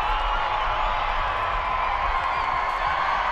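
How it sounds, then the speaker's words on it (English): Stadium crowd at a women's professional soccer match roaring steadily after a goal, a dense, loud, continuous wash of cheering and whooping with no gaps. "And listen to that crowd"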